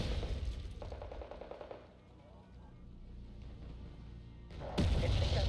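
Gunfire bursts in the strategy video game Landjut on the Paddy map, rapid crackling volleys at the start and again louder near the end, with a quieter stretch between.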